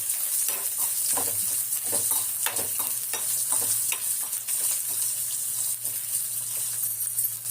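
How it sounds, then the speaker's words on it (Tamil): Green chili, ginger and mint being stirred and sautéed in a pan for mint chutney, steady continuous sizzle with repeated scraping stir strokes throughout, close and fairly loud, no talking. "இதுலேயே எல்லாம் வதக்கி விட்டு அப்படியே அரைக்க வேண்டியதுதான்."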